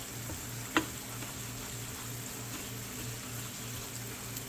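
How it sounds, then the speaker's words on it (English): Flour stirred into a hot pan as the base of a casserole sauce gives a steady, soft sizzle with light scraping, plus one sharp tap of the utensil early on; no voices. "I'm gonna mix in the flour."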